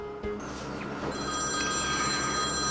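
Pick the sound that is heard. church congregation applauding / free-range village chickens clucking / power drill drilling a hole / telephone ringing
telephone ringing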